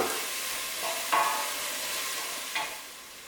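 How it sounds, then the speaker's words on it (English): Carrots sautéing in a pan for carrot and coriander soup: a gentle, even sizzle runs throughout, broken by two brief louder stirring scrapes. "that's the carrots been in there 3 or 4 minutes, sautéing nicely, softened up"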